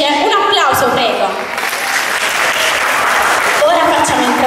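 Cabaret audience applauding throughout, dense clapping with some voices over it, loud and close.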